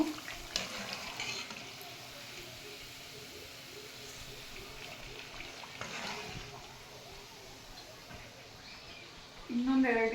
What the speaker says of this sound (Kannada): ನಿಮಿಷ ಚೆನ್ನಾಗಿ ಫ್ರೈ ಆಗಲಿ ಡೀಪ್ ಫ್ರೈ ಆಗಲಿ